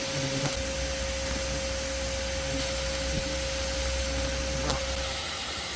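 A vacuum with its nozzle held at a disturbed yellow jacket nest drones steadily with a constant whine, near and loud, broken by a few brief sharp ticks as insects are sucked in.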